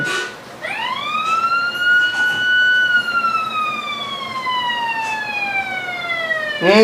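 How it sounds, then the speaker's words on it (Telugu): An ambulance siren wails nearby, rising sharply then sliding slowly downward in one long, loud sweep, with faint traffic noise beneath. "అంబులెన్స్ కదా"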